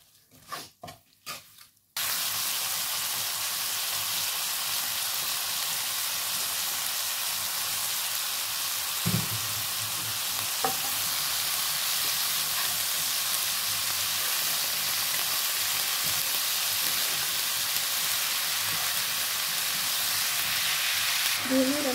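Turmeric, red chilli and cumin powders with whole green chillies sizzle loudly in hot oil in a pan, a steady, close frying hiss that starts suddenly after a few faint knocks and continues unbroken.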